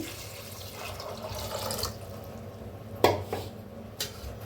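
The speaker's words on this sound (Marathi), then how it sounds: "आता वतूया छोलेत पाणी" Water pours into a pressure cooker holding washed chickpeas, a steady low splashing and gurgling close by, with a couple of sharp clinks of metal toward the end.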